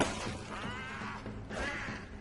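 Breakable objects smashing in the fantasy card-based video game Hand of Fate, two loud, bright shattering crashes with ringing debris, one at the start and another about a second and a half later.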